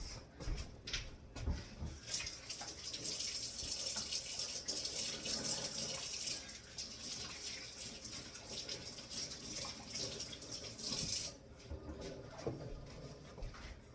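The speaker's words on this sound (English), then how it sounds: "I gotta wash my hands." Tap water runs steadily into a sink while hands are washed under it, a continuous rushing splash broken by a few brief knocks and pauses, fairly faint and close.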